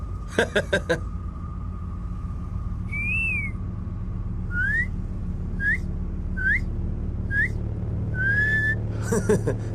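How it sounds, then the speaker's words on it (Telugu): A person whistling a series of short rising and sliding notes, several separate whistles spaced a moment apart, over a steady background hum with brief knocks at the start and end. "రేడియోలో విజిల్ కొడతావు కదా"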